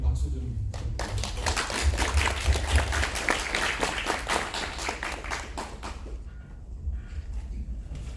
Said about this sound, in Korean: 이 이동혁 국장님 박수 좀 부탁드립니다.